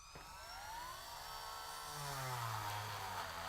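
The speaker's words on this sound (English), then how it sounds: "we're going to go ahead and Dremel this out" A Dremel rotary tool grinds into plastic with a high, whirring whine that sweeps in pitch as the motor loads and speeds up, steady and close, with no talk.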